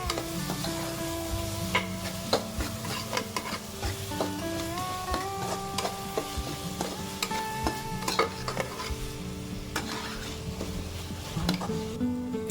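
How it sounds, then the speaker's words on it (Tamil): Crushed ginger-garlic paste fries with onions in a pan for a spicy chicken gravy, giving an even, moderately loud sizzle broken by frequent stirring scrapes and light clinks of utensil on metal, with no one talking. "இஞ்சி பூண்டு பேஸ்ட் இதில் போட்டு நல்லா ஃப்ரை பண்ணிக்கலாம்."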